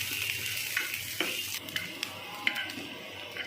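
Chopped onion and green chili sizzle steadily in oil in a pan, a close hissing wash with a few light taps and scrapes of a spatula, no voices.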